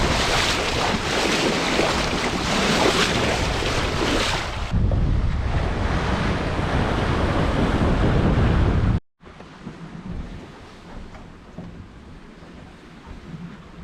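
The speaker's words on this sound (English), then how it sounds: "It's good sailing, fairly flat sea, decent winds, nice speed." Waves and wind wash over a sailboat under way on a fairly flat sea in decent winds. A loud, steady roar of water and wind noise fills the whole span, then drops out briefly and returns quieter.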